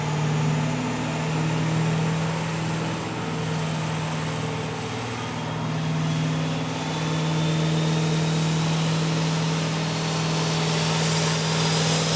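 A 2005 Ford F350 6-liter diesel truck running on a dyno at a diesel competition, with a loud steady engine drone and a sustained tonal hum that rises slowly in pitch, no talking.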